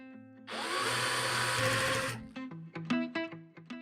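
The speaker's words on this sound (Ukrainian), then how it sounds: "І ось вже на третьому він досить сильно закрутив цей шуруп." DeWALT DCD703 cordless screwdriver driving a screw: a loud, close motor whir for about two seconds, then a series of sharp clutch clicks as it stops turning.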